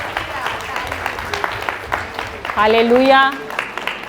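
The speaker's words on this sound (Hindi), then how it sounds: "तो प्रभु को धन्यवाद दीजिए तालियां बजाकर" A church congregation at St. Xavier church in Delhi claps during a Hindi teaching, a steady wash of hands beneath a single voice calling out in praise.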